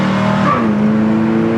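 A 1967 Pontiac GTO's engine runs close and loud, a steady low rumble that briefly rises in pitch as it revs, then settles back into a smooth drone.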